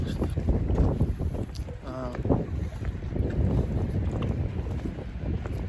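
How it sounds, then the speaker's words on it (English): Wind blows across a microphone outdoors in a backyard, a constant close rumbling buffet that stays loud throughout, with a faint brief tonal sound in the middle. "Wind's blowing."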